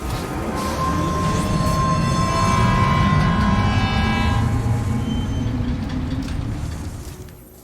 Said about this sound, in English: I've never seen a working monorail before